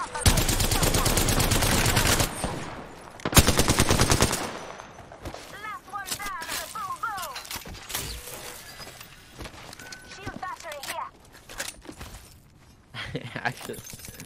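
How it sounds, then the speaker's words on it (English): Automatic weapon fire in the battle royale game Apex Legends: dense, loud rapid-fire bursts dominate the opening seconds, then break off into quieter scattered game sounds. "Enemy taking fire. I'm taking shots."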